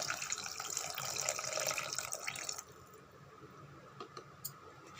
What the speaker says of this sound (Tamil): இந்த டைமில் நம்ம புளி கரைசலை அப்படியே சேர்த்துருங்க